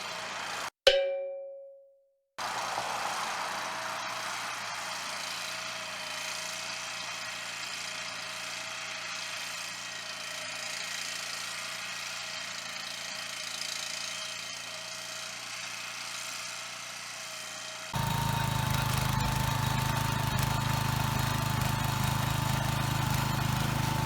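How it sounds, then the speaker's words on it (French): A BCS two-wheel tractor or motor cultivator engine running in a garden plot being cleared, a steady mid-distance drone that grows louder near the end, preceded by a single sharp metallic clang. "avec la charrue rotative, on a pu briser la croûte et par la suite pouvoir passer notre autoculteur"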